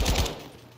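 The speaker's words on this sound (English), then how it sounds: "this is that machine gun from the beta that was kind of good" A short loud burst of machine gun fire in Modern Warfare 2, a few rapid shots quickly fading into a decaying tail, with no talk over it.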